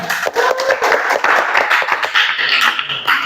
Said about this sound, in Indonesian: tepuk tangan buat teman kalian